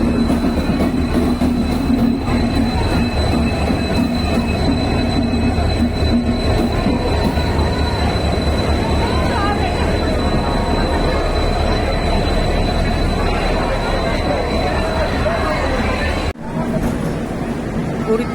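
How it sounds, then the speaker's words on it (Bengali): Trains rumble at Howrah railway station's platform in the evening, with a loud, continuous drone of rolling wagons and wheel clatter, faint squeals, and crowd voices murmuring throughout the busy station. "এই হচ্ছে সন্ধ্যের হাওড়া প্ল্যাটফর্ম চত্বর।"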